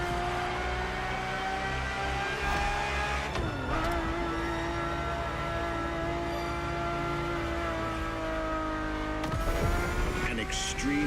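A Ferrari supercar engine in The Crew Motorfest holds a loud, sustained high-revving drone, with two sharp gear shifts, under a narrating voice.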